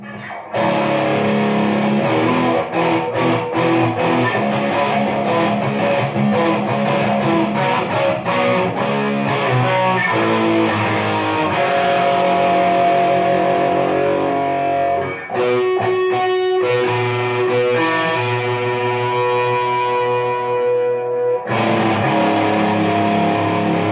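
An electric guitar plays through a TimeBomb VI distortion pedal with the gain turned up. The heavily saturated tone is loud and continuous for over twenty seconds, with short pauses in the playing midway and near the end.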